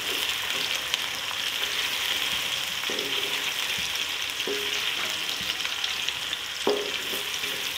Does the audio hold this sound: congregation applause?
no